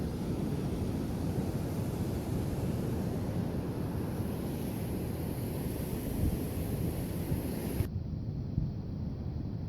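Strong wind roars steadily across the microphone at North Salmon Creek Beach on the Sonoma County coast, a loud continuous rushing with no voices.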